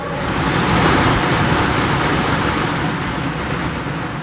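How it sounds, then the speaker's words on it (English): The fan motor of a Denray downdraft table runs with a loud, steady broadband roar, heard close up with a level, unbroken hum and rush of air and no voices. "Turn the motor on."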